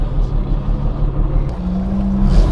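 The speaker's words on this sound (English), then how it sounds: "cold start the Miura, and well, we're now driving around the parade" A Lamborghini Miura drives in a parade, its engine a low, steady rumble heard from inside or close by, with a brief rising tone near the end.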